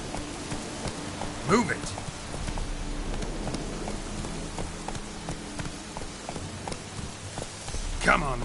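Roach, the horse in The Witcher video game, trots with a steady run of hoofbeats on the ground, while someone briefly speaks over it.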